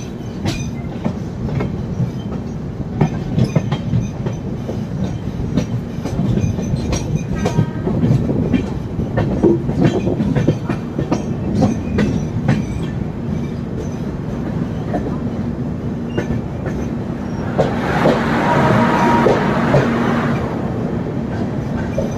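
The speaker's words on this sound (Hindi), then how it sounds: "तो दोस्तों अभी हमारी train Agra cantt junction railway station पहुंचने वाली है।" Chhattisgarh Express train rolling toward Agra Cantt junction, with a steady loud rumble and rhythmic wheel clatter heard from on board, rising briefly into a brighter roar near the end.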